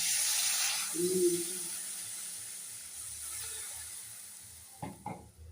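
Water hits hot oil and spices in a pan for a Bengali egg curry. A bright burst of sizzling hiss starts loud and fades to a gentle simmer, with a couple of utensil knocks near the end.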